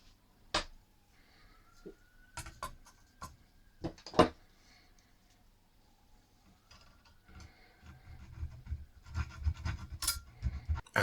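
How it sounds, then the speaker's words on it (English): Cutting a potentiometer spindle to length for a PCL82 tube amplifier build produces faint scattered clicks and scrapes, then a denser run of rasping, sawing strokes toward the end, close up and quiet. "The spindle can be cut to the right length."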